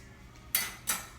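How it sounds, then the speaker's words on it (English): A spoon scrapes twice through a pot of salted mashed potatoes in a home kitchen, two short, close, bright strokes with a quiet pause between them and no talking. "Give it a stir."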